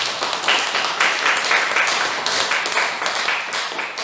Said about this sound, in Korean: 크게 박수 쳐주시기 바랍니다.